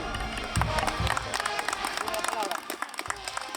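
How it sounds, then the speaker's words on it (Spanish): Festival audience at the Santísima Cruz de Mayo patronal celebration in Quero, Jauja, applauding outdoors, a dense wash of many hands clapping with crowd noise mixed in throughout. "Vamos a recibirlo con un fuerte voto de aplauso."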